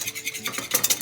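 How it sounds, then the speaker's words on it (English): Lemon juice being whisked into a sauce over heat, quick rhythmic scraping strokes of a utensil against a pan, close and loud, speeding up briefly near the end. "And then you just keep stirring"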